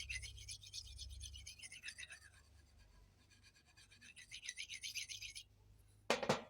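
A knife blade scrapes in repeated rhythmic strokes along a white ceramic sharpening rod, close and fairly quiet, in two bursts separated by a pause, ending with a short louder clack.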